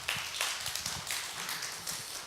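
Audience applause, a dense, fairly close patter of many hands clapping steadily without pause.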